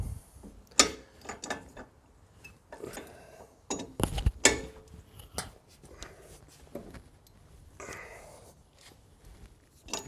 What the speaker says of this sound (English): Got a nice breaker bar here because these things are torqued to 250 foot-pounds.